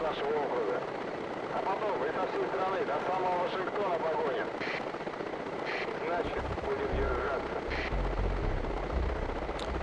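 A low-flying attack helicopter in a video game sends out a steady rotor drone with bursts of gunfire, while a person talks over it throughout.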